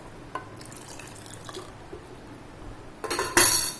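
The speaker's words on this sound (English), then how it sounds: "Now I'm adding water" Water is poured into a pot of Maharashtrian koli pivli dal, with a few soft drips and clinks before a louder splashing pour near the end, close up in a kitchen.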